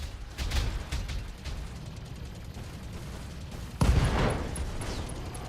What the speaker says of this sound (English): And we got an SRM ammo explosion taking him down